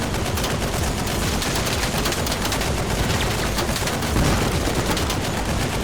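Dense, continuous gunfire rattles without a break in the video game Squad, loud and sustained, like rapid automatic shooting.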